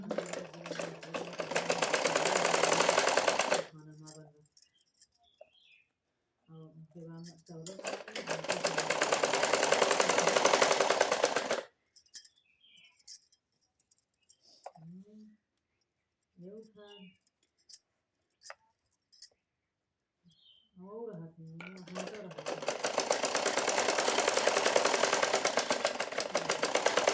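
A sewing machine stitches fabric for a matka-neck blouse with a belt, running in three loud, steady whirring bursts separated by quiet pauses with faint handling noises.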